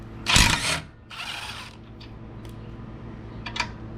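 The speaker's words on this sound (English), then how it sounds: "We'll remove the front tow hooks again with a 16mm impact socket." An impact wrench with a 16mm socket removes the front tow hooks on a 2019-2023 Ford Ranger FX4, giving one loud rattling burst, then a second shorter run and a few faint clicks of metal handling nearby.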